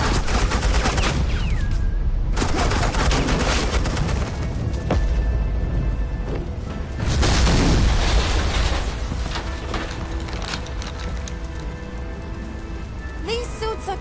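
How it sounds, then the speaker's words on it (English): Heavy gunfire of suppressing fire in Far Cry 5, a dense, sustained crackle of rapid shots with a louder surge midway, then tapering off toward the end. "Suppressing fire."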